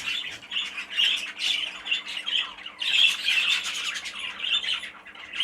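Birds in a show-team stock cage squawk and chirp in a continuous, busy chorus of loud, harsh calls close by, with no talking.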